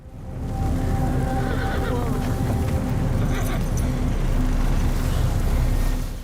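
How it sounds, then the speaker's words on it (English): Horses whinnying amid a rumbling, busy scene from a TV series, with a steady loud low roar throughout and brief higher neighing cries partway through, plus some voices. "she knows that's their horses"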